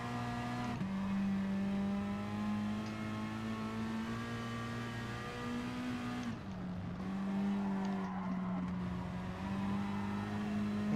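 Race car engine in the video game GT Sport, a loud sustained high-revving whine with gear shifts and pitch changes, alone without talk.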